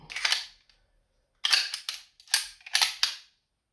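Beretta 92X pistol being reassembled: sharp metallic clicks and snaps as parts seat into place, one early click then a quick cluster of several crisp, close clicks with brief silent gaps between.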